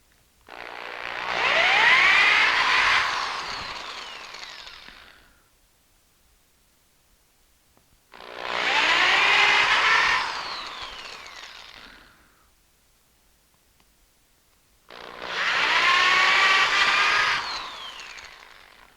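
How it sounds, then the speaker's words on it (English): A power drill boring screw holes into wooden toy box side panels, three separate loud whirring runs of a few seconds each, with quiet pauses between them. "we got all our holes drilled in our 2 side panels"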